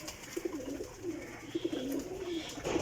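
A breeding pair of black pigeons coos close by, a series of soft, throaty, rolling coos repeating at short intervals over a quiet background, with no speech.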